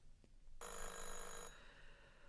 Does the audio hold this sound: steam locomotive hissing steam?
no